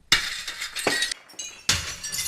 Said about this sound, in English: The window with no protection at all shatters with ease.